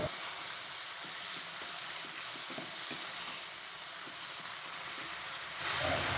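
Water spinach (kangkung) stir-frying in a pan, a steady close hiss of sizzling with faint scrapes and stirring taps, swelling louder near the end as water is added, no talking.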